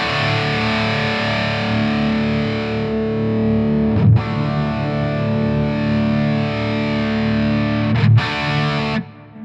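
A heavily distorted electric guitar plays through a Laney Ironheart Foundry amp pedal as the treble control is swept, sustained loud chords ringing out with two sharp re-attacks and an abrupt stop near the end.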